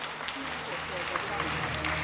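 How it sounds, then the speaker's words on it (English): Applause from a gala audience at an awards ceremony, a steady dense patter lasting the whole moment, mixed with voices and some background sound. "I think she needs another round of applause."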